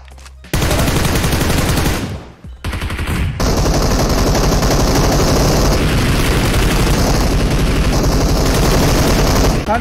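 Loud, sustained automatic gunfire rattles in PUBG Mobile, with dense rapid bursts running almost continuously after a short opening shot and a brief pause.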